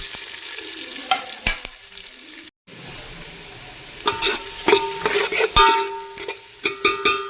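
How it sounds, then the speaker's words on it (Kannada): Chopped onions and green chillies frying in ghee, a sizzle with short gaps and a brief drop to silence, then scraping spoon strokes and clinks against the pan growing busier and louder toward the end. "ಇವಾಗ ನಾನು ಕಟ್ ಮಾಡಿ ಇಟ್ಕೊಂಡಿರೋ ಈರುಳ್ಳಿ ಮತ್ತು ಹಸಿಮೆಣಸಿನಕಾಯಿ ಹಾಕೊತಾ ಇದ್ದೀನಿ"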